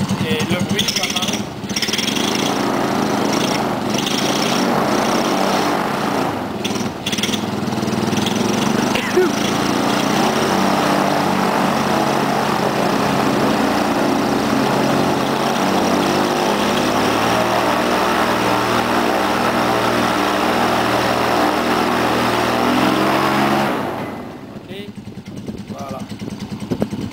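A Fox-F4 small petrol engine on a fully assembled cage runs at a steady, buzzing drone. The pitch shifts slightly partway through, then it cuts off abruptly near the end, leaving quiet.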